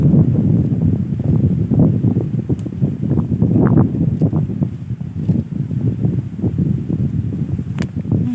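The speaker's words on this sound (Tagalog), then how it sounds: "Lakas ng hangin." Strong wind roars and buffets the microphone in a constant low rumble, with gusty fluctuations and faint rustling throughout.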